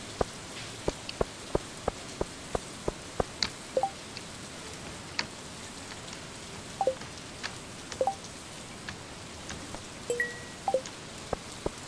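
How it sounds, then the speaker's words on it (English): Rain patters steadily in Stardew Valley, a soft wash of drizzle broken by scattered sharp drip ticks and a few small chiming blips, with nobody talking. "It is currently raining, so I could totally go get them from the mine."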